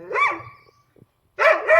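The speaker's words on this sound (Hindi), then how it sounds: "और टाइम ने देखो भौंकना स्टार्ट कर दिया" A dog barks outdoors in the evening near a residential room, with two bursts of loud, close barking separated by a short pause.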